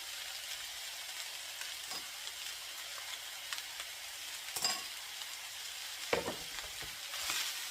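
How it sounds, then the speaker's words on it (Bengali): Chinese dish with spring onion leaves stir-frying in a pan, a steady close sizzle with the occasional scrape and clatter of stirring, no voices. "এখন আমি ভালো করে এখন ফ্রাই করে নেব"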